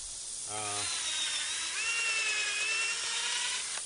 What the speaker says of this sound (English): Like I say, they're very easy to drill.